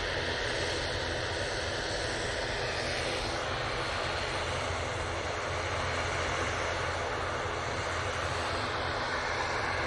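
Virgin Atlantic Airbus A330-300 arriving at Manchester Airport from Atlanta, a distant, fairly faint continuous engine rumble and rush, wind-like and steady throughout.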